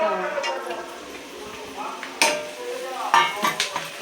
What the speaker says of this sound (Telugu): ఉల్లిపాయలు మగ్గించుకుంటామండి